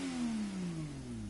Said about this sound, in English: You hear that induction?